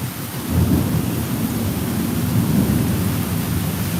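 A summer thunderstorm over Tulsa, Oklahoma, heard from a front porch: steady, loud rain hiss with deep thunder rumbling continuously underneath, no voices.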